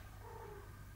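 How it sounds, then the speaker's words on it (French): A house cat gives a faint, drawn-out meow over a constant low hum, quiet and somewhat distant, with no one talking. "désolée si vous entendez le chat miauler"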